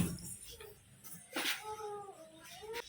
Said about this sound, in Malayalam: എവിടുന്നോ വന്നൊരു പൂച്ച